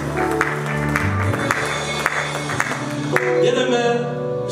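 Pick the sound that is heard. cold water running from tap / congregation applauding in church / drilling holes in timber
congregation applauding in church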